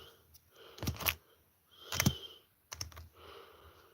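Bursts of clicking keystrokes on a computer keyboard that has some keys missing, coming in three short clusters with brief pauses between, fairly close and moderately loud.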